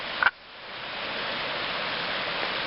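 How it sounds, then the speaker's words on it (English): Rock Creek, a small trout stream beside a campground, rushes steadily as a continuous broadband wash of flowing water, close and even throughout after a brief bump at the start. "To my right is Rock Creek, an excellent trout fishery."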